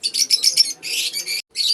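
Bright, rapid chirps from a pet lutino opaline bird in quick bursts, close and fairly loud, with short pauses between phrases and a faint low murmur underneath.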